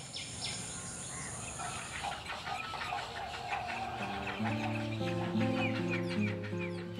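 Young little egrets calling for food at dawn in a mangrove swamp, a busy chorus of rapid squawking calls from several birds, fairly close, with music rising beneath them partway through.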